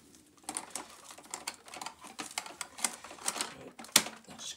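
Plastic parts of a VAX Air Lift Steerable Pet Max vacuum cleaner handled and clicked together, a run of sharp, close ticks and clacks ending in one louder snap near the end.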